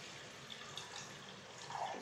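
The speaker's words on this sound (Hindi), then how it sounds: "पानी चढ़ा देती हूँ।" Running water from a kitchen tap fills a pot for making green tea, a faint steady pour heard alone that swells briefly toward the end.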